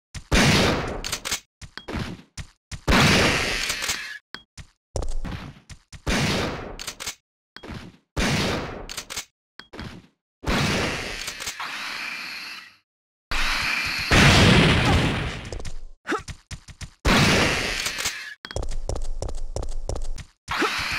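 Shotgun blasts from Resident Evil 3: Nemesis fire repeatedly against drained enemies, loud booming bursts in an irregular rhythm with brief gaps, game effects between shots and no talk.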